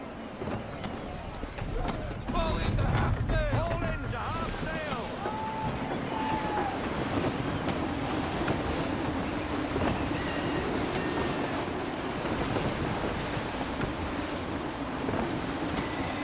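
Wind gusts and ocean waves wash steadily around a sailing ship at sea in Assassin's Creed III, a continuous surf-and-wind roar with creaks and a voice speaking over it early on.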